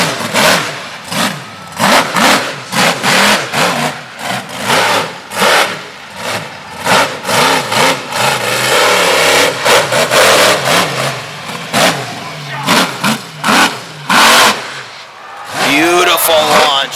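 A monster truck engine at a night monster truck show in Manassas, Virginia, revs hard again and again in loud, surging bursts as the truck launches. Announcer commentary runs over the engine noise.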